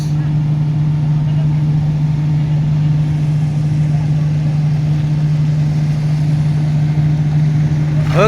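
At a construction site where a vibro hammer drives giant pipes, a car engine runs steadily with a continuous deep hum as the vehicle pulls out, loud and close throughout with no break.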